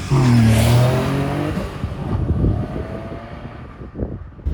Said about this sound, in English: Just trying to get the turbo noises.